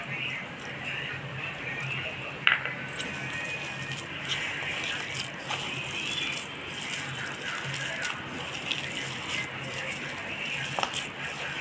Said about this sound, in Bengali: আমরা আর একটু জল দেব এটা